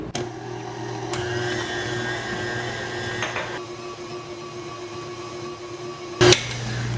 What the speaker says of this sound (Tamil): இப்போ திருப்பி பீட் பண்ணுவோம்.